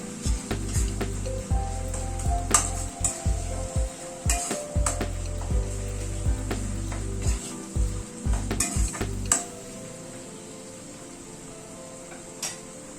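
Spices with kasuri methi sautéing in a pan, with a low sizzle under repeated rhythmic scraping and stirring strokes of a spoon, which stop partway, leaving a quieter simmer.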